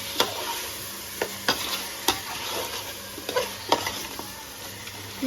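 Chicken pieces for biryani sizzle and fry in a pan, with a soft steady hiss broken by several sharp clinks and scrapes of a stirring spoon against the metal.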